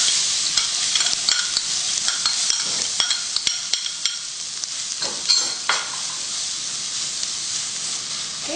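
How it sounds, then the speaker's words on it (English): Onions frying in oil with turmeric and asafoetida for dal fry make a loud, close sizzle, broken by repeated sharp clicks and scrapes of a spatula stirring against the pan. "We're going to go ahead and put in our onions."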